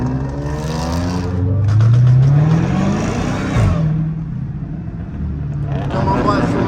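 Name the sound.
supercharged Dodge Hellcat engine revving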